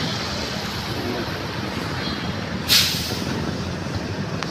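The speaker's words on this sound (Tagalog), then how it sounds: "Wala nang basura, nahakot na ng malaking truck na to." A large garbage truck rumbles steadily in a busy Manila market street, its low engine drone continuous, with one short hiss of an air brake release partway through.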